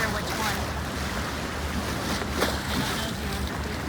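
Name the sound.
waterfront by Doge's Palace, water and waves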